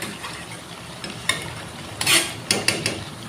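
Chicken pieces being sautéed in oil in a pan for a Bengali kosha curry, with a soft background sizzle and a few clear scraping stir strokes and clinks of a utensil against the pan.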